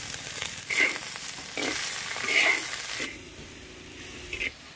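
Spinach leaves hitting hot mustard oil with crushed garlic and dried chili in a village kitchen give off bursts of loud sizzling and crackling that swell and fade, then settle into a quieter, steadier fry.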